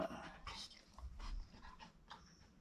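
A frightened dog pants and whimpers close by after thunder, with short breathy pants and soft high whines coming in uneven bursts at low volume.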